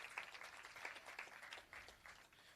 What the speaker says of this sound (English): Give them a round of applause, all 7 representatives.